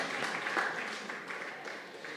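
Applause from an audience at a tech talk on forecasting, a steady, dense wash of many hands clapping, fairly soft and continuous throughout with no clear voices on top.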